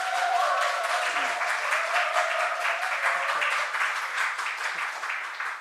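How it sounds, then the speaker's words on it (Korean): A church congregation at a New Year's Eve service claps warmly to welcome a member, a steady, even wash of applause lasting several seconds with faint voices mixed in. "다시 한번 박수 한번 치겠습니다"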